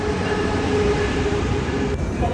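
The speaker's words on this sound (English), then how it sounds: "It's coming. The first ever Brightline to Orlando." The first Brightline passenger train arriving on the line to Orlando, a steady rumbling rail roar with a faint tonal whine, heard from nearby and continuous, with no talking.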